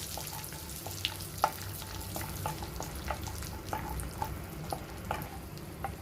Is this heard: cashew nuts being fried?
yes